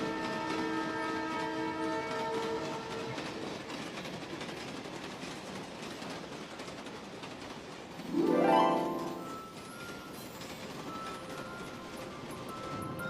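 A passenger train on the Delhi to Lahore route rumbles steadily along the tracks, its carriages rattling continuously, with a loud horn blast sounding midway before fading back into the running noise.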